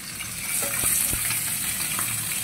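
Fish frying in a flat-bottomed pan, a steady close sizzle of hot oil with a few sharp crackles and pops scattered through.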